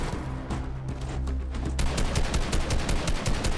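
Gunfire in a video game, loud and close: a few separate shots at first, then a rapid burst of automatic fire cracking steadily to the end.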